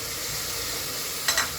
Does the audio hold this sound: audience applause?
no